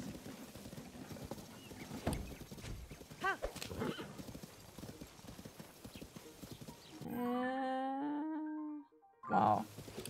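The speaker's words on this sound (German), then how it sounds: "wenn man auf dem Pferd sitzt" Rhythmic clip-clop of a ridden horse's hooves at a steady pace in Zelda: Tears of the Kingdom, followed by a loud horse whinny and a short snort near the end.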